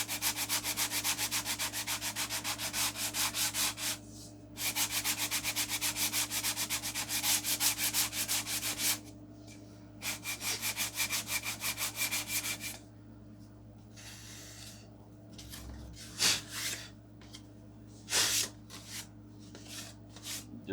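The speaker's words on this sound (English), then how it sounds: "So we're just going to go ahead and give this a light sanding." Wood on a model airplane's vertical fin and rudder is lightly sanded by hand in quick back-and-forth strokes, rhythmic rasping bursts separated by short pauses, close and fairly quiet.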